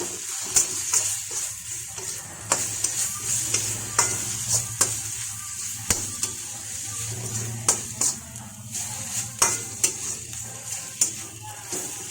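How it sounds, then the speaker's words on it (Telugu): Ginger garlic paste fries and sizzles steadily in a pan while a spoon stirs it with repeated scraping clicks, close and continuous for the whole stretch. "ఇప్పుడు బాగా పచ్చివాసన పోయే వరకు వేయించుకోవాలి"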